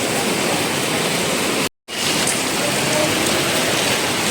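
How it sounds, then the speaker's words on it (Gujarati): Heavy rain and rushing floodwater pour down in a dense, continuous roar, loud and close, broken only by a brief moment of silence, in Junagadh. "પાણી છે જોરદાર અત્યારે વરસાદ એવો હતો"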